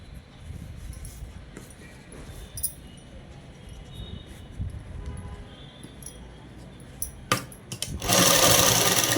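A sewing machine stitches gathered puff seams on a child's dress with a steady, close mechanical whir throughout, then a louder, harsher burst of running near the end.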